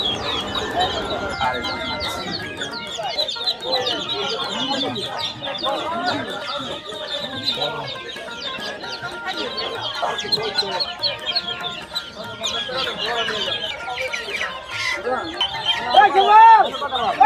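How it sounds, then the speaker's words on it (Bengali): Chickens cluck and squawk repeatedly at a centuries-old rural poultry market in Bangladesh, where geese and turkeys are also sold, and voices talk over the birds throughout. "পাশে রাজহাঁস, এই যে পাশে মুরগি আছে"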